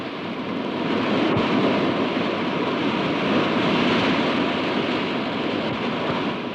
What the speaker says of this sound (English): inhabited only by the fisher folk and the sound of the sea